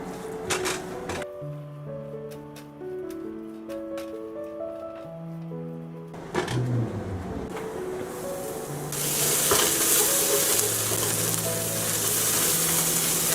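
Chopped onion frying in a pan for a vegan Mughlai broccoli musallam, a soft sizzle building into a steady, louder hiss in the second half as it is stirred, with music playing throughout.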